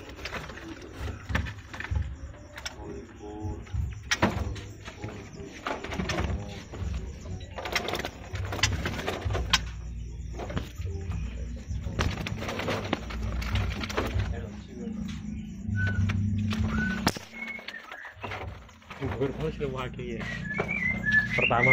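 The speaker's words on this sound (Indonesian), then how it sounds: "Ini penampakan burungnya, bos. Muda hutan." A delivery crate of young wild forest birds chirps and whistles in a busy overlapping chorus, with people talking nearby and a low background hum throughout.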